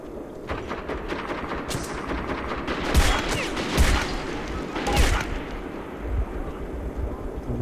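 Gunfire aimed at the player in the video game Metro 2033: several dense bursts of shots and impacts over a constant rumbling game backdrop, loudest around the middle of the stretch, with no voices.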